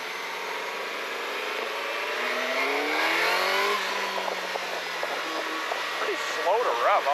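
A Suzuki GSX-S1000GX+ motorcycle engine winds up steadily in pitch under heavy wind rush while riding, then eases off, with a rider's voice talking faintly near the end.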